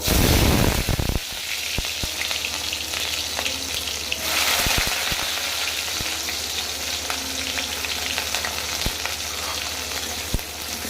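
Cumin and chopped onion hitting hot oil, a loud initial burst of sizzling that settles into steady frying crackle, with a few sharp pops and spatters scattered throughout, close and continuous, with no talking.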